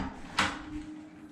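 A cabin bathroom door on a river cruise ship opens with one short, quick swish or clack, close by, over a steady low background hum.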